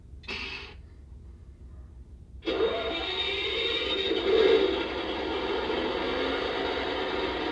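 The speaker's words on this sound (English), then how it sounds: "we did add the feature of having a diesel generator sound" A short burst of hiss, then a steady low diesel generator drone from a Lionel Legacy F40PH model locomotive starts up and keeps running evenly at moderate volume.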